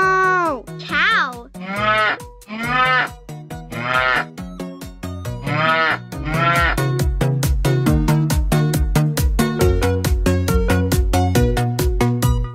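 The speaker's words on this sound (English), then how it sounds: "Moo, cow." A Fisher-Price Laugh & Learn Silly Sounds Light-Up Piano's electronic cow moos several times in short bursts, then a jaunty toy piano melody plays on steadily with bouncing repeated notes.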